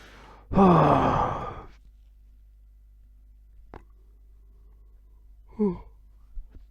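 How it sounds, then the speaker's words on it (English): A single long, breathy yawn starts close to the mic at night and lasts about a second, then fades into quiet room tone. A couple of small mouth or breath sounds follow. "I also apologize for yawning."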